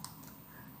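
Keys tapped on a computer keyboard while entering a router IP address for a Huawei B310as modem, a short run of light, quiet clicks close by.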